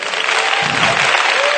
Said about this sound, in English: Let's clap our hands again.